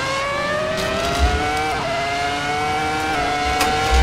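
Ferrari F2004 V10 Formula 1 car lapping Silverstone in Assetto Corsa, its high-pitched engine howling steadily with rising and falling revs through gear changes, loud and close throughout.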